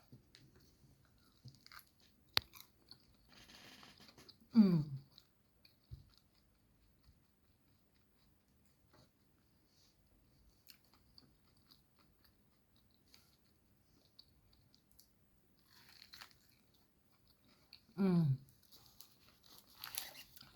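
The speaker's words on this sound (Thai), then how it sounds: "ปีนี้ครั้งแรกนะคะ ที่ได้กินทุเรียน" Durian being chewed and eaten, with two short bursts of crunchy, wet biting several seconds apart over near-silence, faint rustling between them.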